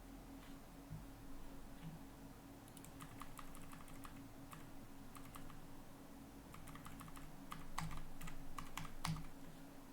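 Steady typing on a computer keyboard, clicks in uneven bursts that grow denser and louder toward the end, with a low constant hum beneath and no voices.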